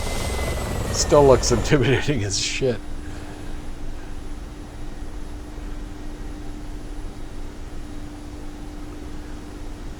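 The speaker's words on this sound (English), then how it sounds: "the meanest, ugliest attack helicopter ever made" A Mi-24P Hind attack helicopter in the DCS flight game runs with a steady, droning rotor and engine noise throughout, with someone speaking briefly over it at the start.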